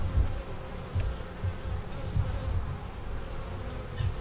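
A steady swarm of honeybees hums at a hive in a low, continuous drone, with individual bees buzzing close by now and then.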